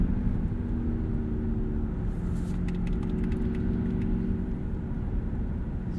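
A 2022 Mazda MX-30 EV Premium Plus, a front-wheel-drive electric car, driving along with a steady low cabin rumble of road and tyre noise and a few faint ticks, heard from inside with no talking.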